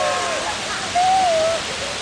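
Running water gushes in a steady broadband rush close by, with a voice briefly speaking over it.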